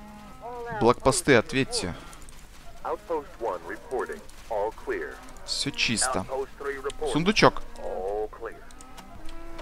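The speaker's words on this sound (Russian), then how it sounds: "Блин, корова, так мычат." Cattle moo repeatedly in the Wasteland 2 video game, drawn-out lowing calls mixed with radio-style voices speaking over them at a moderate level.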